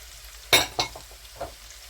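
Onions and carrots hitting a hot pan for a beef cassoulet: a sharp burst of sizzling, then a couple of smaller scrapes and hisses as the vegetables settle, close and fairly loud.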